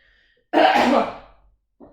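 A single harsh cough up close, followed by a brief faint second rasp after a short pause.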